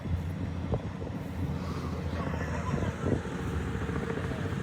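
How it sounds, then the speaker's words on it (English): A helicopter flies over a city parade with a fire department ladder truck, a steady low rotor and engine drone running through the whole stretch, mixed with crowd and street noise. "There's a helicopter covering the parade in the background."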